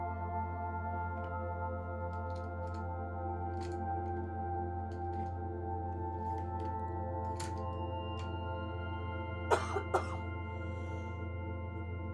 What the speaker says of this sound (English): Sorry again for my coughing